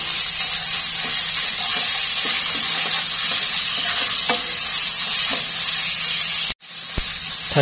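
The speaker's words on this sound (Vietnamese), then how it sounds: "Để lửa lớn nha, xào cho nó săn nè." Pork stir-frying over high heat in a non-stick pan gives a loud, even sizzle with a few utensil scrapes, a brief break near the end, then the frying resumes.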